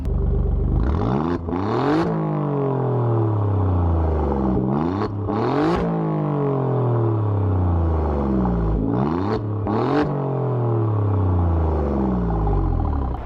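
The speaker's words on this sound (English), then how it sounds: "Let's take a listen to the sound of the Giulia Quadrifoglio." An Alfa Romeo Giulia Quadrifoglio engine revs up repeatedly, each loud rising roar falling back to idle in several distinct bursts, heard close and alone.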